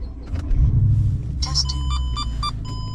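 A Mercedes CLK 500 V8 engine starts up with a low rumbling turnover that settles into a steady idle, alongside a few electronic chimes.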